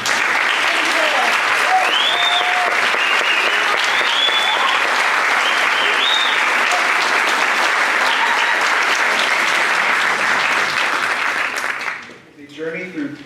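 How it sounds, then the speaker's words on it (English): A concert band audience applauds steadily for about twelve seconds, a dense, sustained wash of clapping with a few scattered cheers, before it fades out and a voice begins speaking. "Would you please give a warm thank you and applause"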